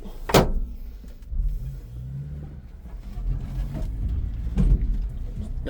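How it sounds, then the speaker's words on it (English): Subaru Sambar crane truck at the start of a test drive, with a low engine rumble and cab rattles from inside, a sharp thump or click near the start and another later, and someone talking. "So, Bob and Diane, here is the fun part, the test drive."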